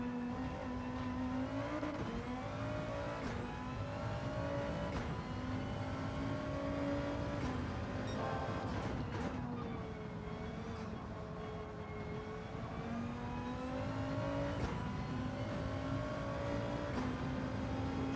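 Race car engine in Gran Turismo 7, an RS 5 Turbo DTM lapping Sardegna, revving hard and rising through gears with sharp drops at each shift, loud and continuous with repeated climbs in pitch.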